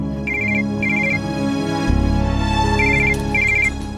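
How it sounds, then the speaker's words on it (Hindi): A phone rings indoors in a short repeating electronic chime pattern, two bursts early and two later, over a steady dramatic music bed. "तुम बार बार क्यों फोन कर रही हो?"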